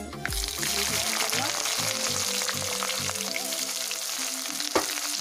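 Onion frying in a pan with bay leaves and panch phoron for an easy chicken recipe, a steady close hiss and sizzle running throughout, with a few faint stirring clinks and a brief louder knock near the end.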